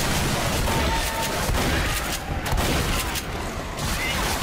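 Shotgun fire in the zombie shooter Left 4 Dead, several loud sharp blasts in quick irregular succession over a dense, noisy background of game combat.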